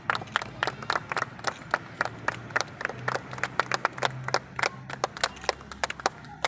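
Audience at an Independence Day ceremony in Chhanni Himmat, Jammu claps steadily, a dense run of sharp hand claps going on without a break.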